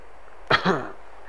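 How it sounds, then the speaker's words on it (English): A man coughs once in the background, a short throaty hack with a brief trailing rasp, fairly faint over quiet room tone. "we've got N in the background coughing and whooping because he's getting shot whilst playing a completely different game"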